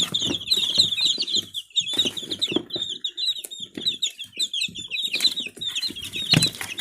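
Hens and roosters, including Leghorn birds, cluck and call in quick, irregular bursts close by, with some wing flapping and rustling mixed in and no one talking.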